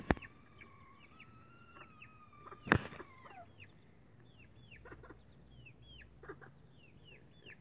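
A chicken clucks and chirps in short repeated calls, with a couple of sharp knocks near the start, all fairly quiet and close.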